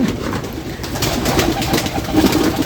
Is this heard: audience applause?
no